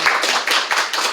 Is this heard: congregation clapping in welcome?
yes